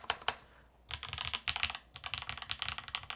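Fast typing on a Soleil solar-powered mechanical keyboard, its bottom-row keys giving a flat, dull clack; a quiet, close run of keystrokes after a brief pause.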